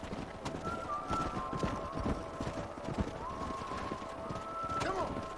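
Horse hooves clip-clop at a steady trotting rhythm in the Red Dead Redemption video game, mixed with other in-game sounds and a brief whinny near the end.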